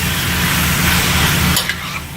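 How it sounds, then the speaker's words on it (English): Beef browns in a hot pot with flour for stew, giving a loud, close, continuous sizzle with scraping stir noises, and the frying noise softens near the end. "Now we're just browning the meat right now"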